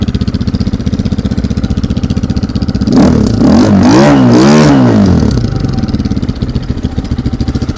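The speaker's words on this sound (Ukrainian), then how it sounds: "Заводиться чудово, двигунчик працює рівно." Close, loud BSE J3D 172 enduro motorcycle, a 16-horsepower engine, idling steadily before rising through a couple of quick revs and dropping back to an even idle.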